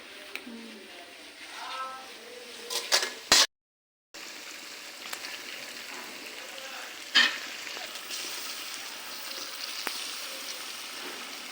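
Chicken meat cooks in a new large kadai, a low steady sizzle with occasional clinks and scrapes of a utensil, briefly cut off partway through, with faint voices in the background.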